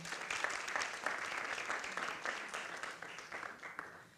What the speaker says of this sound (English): So thank you so much to each of the panelists. So a round of applause